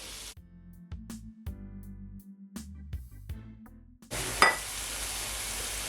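Cabbage hits a hot pot with scallion and thyme for Jamaican steamed cabbage, setting off a sudden, steady loud sizzle that follows a quieter stretch of musical tones.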